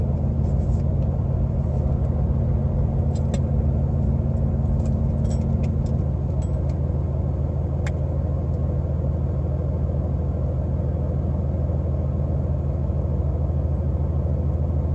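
A car fitted with a South Bend clutch idles in neutral at a stoplight, giving a steady, loud low rumble with a constant engine drone throughout and a faint higher tone fading out early on.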